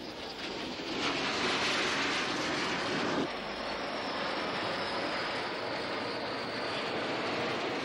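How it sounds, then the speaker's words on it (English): French-built Mystère fighter-bomber jets in flight during the 1967 Six Day War make a continuous, loud broadband roar that swells slightly and then holds steady, with no voices. "In the first wave, French-built Mystère fighter bombers."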